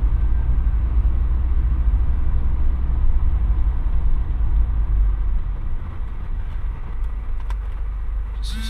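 A V8 car engine idles with a deep, steady low rumble, loud and close, holding even throughout and easing slightly toward the end, with no one talking.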